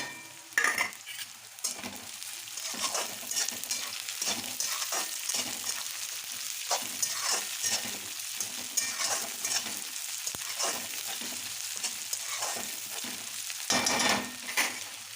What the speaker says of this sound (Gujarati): ડુંગળી થોડી બ્રાઉન થાય ત્યાં સુધી આપણે એને કરવાની છે, ફાસ્ટ ગેસ ઉપર જ કરવાનું છે આમાં